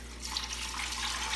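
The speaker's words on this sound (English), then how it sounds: "we take our water and we pour it into the crock pot." Water poured into a crock pot for homemade chicken broth with carrots and celery, a faint, steady splashing stream lasting about a second and a half.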